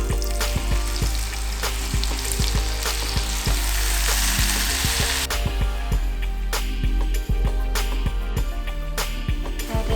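Steady, loud sizzling and crackling of butter frying in a hot pan, with occasional clinks and scraping of a utensil throughout.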